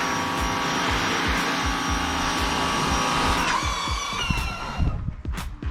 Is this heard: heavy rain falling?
no